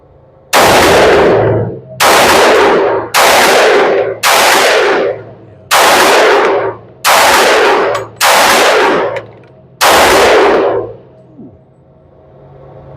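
Eight loud, sharp gunshots from a Glock G23 pistol firing .357 SIG rounds, spaced roughly a second apart in an irregular rhythm, each with a short ringing tail, shot close by outdoors with no talking.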